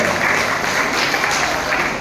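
Audience clapping at a Kannada literary association's national painting conference in Bengaluru, a steady, dense wash of applause filling the whole stretch with no clear pauses.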